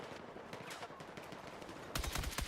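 Gunfire in a video game plays quietly at first, then bursts into a louder rapid volley of shots near the end, with no talk.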